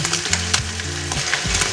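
Shredded fish stir-fried in a pan with oyster sauce and sweet soy sauce added, a steady loud sizzle broken by repeated spatula scrapes and clatters, close up and with no voices.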